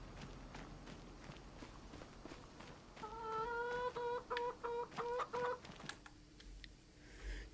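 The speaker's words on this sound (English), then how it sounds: "Chickens, over here." Chickens in the farming video game Moss Valley, a run of clear rhythmic clucks over soft footsteps and clicking, with a steady faint background hum.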